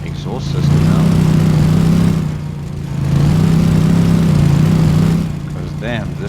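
A loud, droning car engine with a harsh, rumbling exhaust note from a broken exhaust system that swells and dips twice, close by, with some faint voices in the background.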